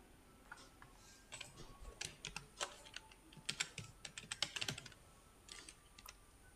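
Keys clatter on a computer keyboard while a new Flutter project is set up in Visual Studio Code, with quiet irregular bursts of taps, some fast runs and short pauses, close and alone.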